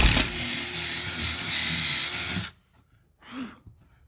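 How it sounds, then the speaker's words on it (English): Power drill boring a hole, a loud close whirring whine that runs steadily for about two and a half seconds and then cuts off abruptly, followed by a short quieter burst. "we're just using a good old-fashioned drill"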